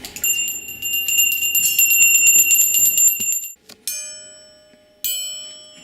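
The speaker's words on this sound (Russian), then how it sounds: "Нравится колокольчик." A small bell rung by children in a music class, first a sustained rapid jingling for a few seconds, then two separate single strikes that ring out and fade, with no talking.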